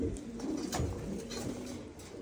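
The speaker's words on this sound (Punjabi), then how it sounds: "ਤੁਹਾਡੇ ਸਾਹਮਣੇ ਉੱਡਣ ਵਾਲੀਆਂ ਕਬੂਤਰੀਆਂ ਆ" Pigeons coo in a low, soft, continuous murmur, several birds close together with steady overlapping calls and no talking, from a flock of Punjabi flying pigeons kept for competition flights.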